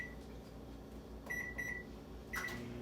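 A microwave hums steadily while heating pasta Alfredo in a vented glass container, then its keypad beeps a few times as buttons are pressed, followed by another beep as it starts.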